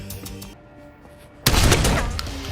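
Gunshots in a Keanu Reeves action movie scene, a loud sudden burst of firing that breaks in after a quiet stretch and keeps crackling and echoing through the rest.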